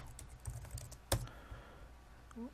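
Linux commands being typed on a computer keyboard: a few quiet, scattered key clicks close by, with one sharper keystroke in the middle and no speech.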